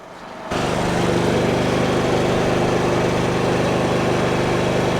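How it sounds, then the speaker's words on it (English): A portable generator running beside a travel trailer near a highway kicks on after a brief quiet moment, then holds a loud, steady engine drone with a constant low hum, close by and with no voices. "And next to my generator"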